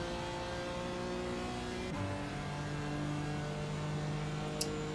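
A race car engine in a racing video game holds a steady high drone, then shifts pitch sharply as it changes gear, with the engine note sustained and loud throughout.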